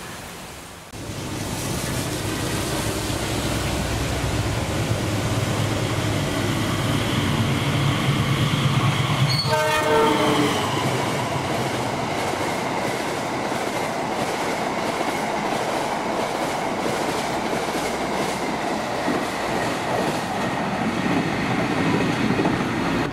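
A long, colourful container freight train rumbles steadily past a station with rhythmic clattering wheels, a brief horn sounding partway through, under a wash of rain noise.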